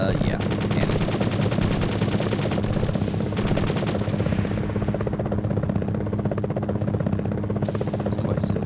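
Rapid, sustained machine-gun fire in the helicopter combat video game Gunship, with steady rhythmic bursts over a constant loud rotor drone throughout.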